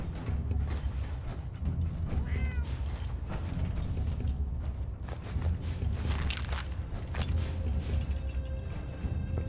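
A cat meows within the Fallout 4 video game, a short rising-and-falling call over a steady, busy bed of game ambience, with faint footstep-like clicks and mechanical noise throughout.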